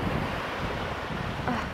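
Sea waves and wind at a beach on a hot afternoon, a steady broadband wash of surf with gusty wind rumble against the microphone, continuous and fairly close, with no voices.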